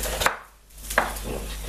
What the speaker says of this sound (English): I chop that thing up.